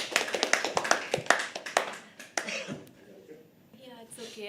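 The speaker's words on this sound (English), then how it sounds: "Let's start clapping." A small audience at a live poetry open mic claps, with a dense burst of close applause that thins into scattered claps and fades to near quiet.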